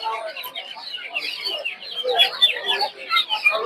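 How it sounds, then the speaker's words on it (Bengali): Tiger chicken chicks at a rural poultry market for local ducks and chickens peep constantly in a dense, high-pitched chorus, near and fairly loud. "দেখতে পাচ্ছেন এদিকে হচ্ছে টাইগার মুরগি বাচ্চা"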